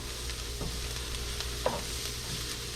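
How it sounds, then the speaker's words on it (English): Parsley and minced garlic sautéing in a pan, giving a faint, steady sizzle with a few soft stirring clicks. "I'm going to add in about 2 tablespoons of parsley and about 2 tablespoons of minced garlic. And we're just going to saute this"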